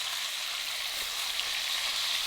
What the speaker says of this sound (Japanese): アロゼをすることによって肉の上からもじっくり火が入ってきます